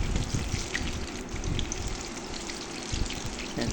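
Banana fritters (pazhampori) fry in hot oil over a low flame while being turned, giving a steady, close, crackling sizzle that runs without a break.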